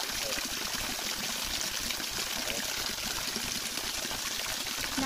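Steady broadband rush of Tat Khu waterfall flowing, a dense continuous roar of falling water filling the whole clip at even loudness, with no voices.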